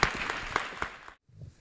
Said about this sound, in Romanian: Vă rog să-l aplaudați pe Dr. Terry Mortensen.